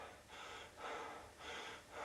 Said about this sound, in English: as you can tell by the panting